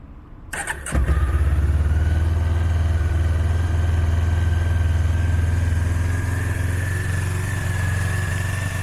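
A small Honda CB500 motorcycle engine coughs to life after a brief crank, then settles into a steady, even idle that runs continuously and fairly loud.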